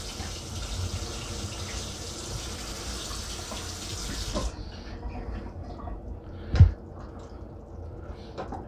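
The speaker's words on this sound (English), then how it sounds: "we're gonna add some water" Water pours in a steady, close rush into a cooking Thai chicken curry with eggplant for about four seconds, then stops, followed by quiet background noise and a single soft knock.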